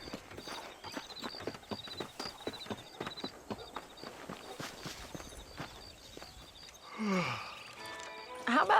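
Horse hooves clip-clop in a steady walking rhythm in the video game Red Dead Redemption, close and moderately loud, then give way to a brief voice near the end.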